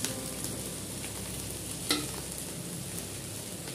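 Cooked rice stir-fried in a hot pan for veg fried rice, a continuous close sizzle with light scraping from stirring and one sharp clink of utensil against the pan partway through.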